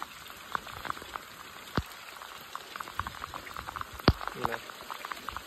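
Rain falling outdoors at a fishing spot during the first rain of the season, a light steady patter broken by sharp scattered drop splashes, with a brief voice near the end.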